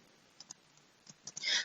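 Keys tapped on a computer keyboard while entering a spreadsheet formula, a few sparse quiet clicks followed by a louder burst of rapid taps at the end, with no talking.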